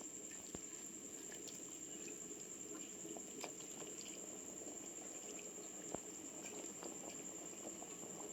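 Gongura fish curry simmering in a pot, a faint, steady low bubbling with occasional soft pops, quiet and continuous throughout.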